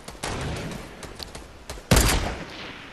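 Gunfire in a large 50v50 online shooter match, several sharp shots spread over a few seconds, with a louder, heavier burst near the end and no talking.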